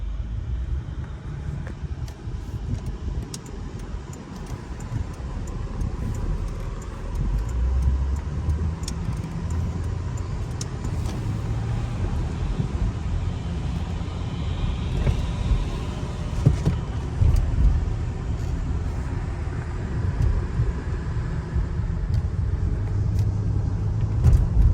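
A 2006 Honda Ridgeline RTS pickup driving along a road, heard from inside the cab with a steady low engine and road rumble, the air conditioning running, and no one speaking.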